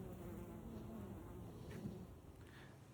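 Honeybees hum around an open hive during an inspection, a steady close buzz with individual bees passing near, quiet and continuous.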